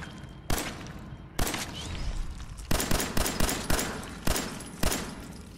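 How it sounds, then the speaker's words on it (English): Gunfire in the Fallout 4 video game, a series of loud, sharp shots, first spaced out and then in a faster run of bursts, each with a short decaying tail. "I'm gonna shoot you in the face"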